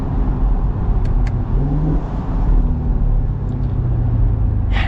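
A new Chevy Camaro SS engine roars close and loud, a sustained deep rumble with rising revs and a couple of brief downshift blips, no talk over it.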